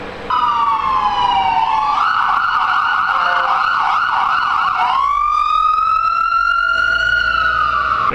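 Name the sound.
ambulance siren passing in San Francisco street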